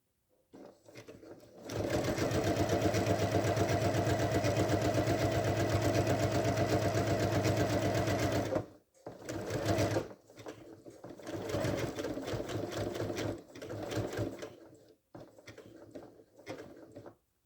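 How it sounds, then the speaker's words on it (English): A sewing machine stitches fabric for a zipper bag, whirring in a loud, steady run of about seven seconds. Then come a brief stop and several shorter bursts of stitching, separated by pauses. "So now I'm going to sew from point to point, connect the dots, and I'm going to sew in a square from side to side."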